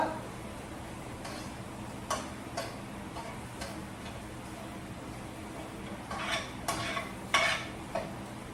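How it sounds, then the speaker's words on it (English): Shrimp fried rice ingredients get stirred in a pan, with quiet scraping and a handful of sharp utensil clicks and taps scattered over a faint background hiss, some bunched near the end. "Stir it all up."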